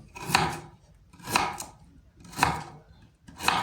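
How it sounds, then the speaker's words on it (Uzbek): A knife chops through firm ginger on a cutting board, four slow, evenly spaced strokes, each landing with a crisp thud. "Buni endi qattiqroq bo'lganligi uchun maydaroq bo'lakka bo'lishga harakat qilaman."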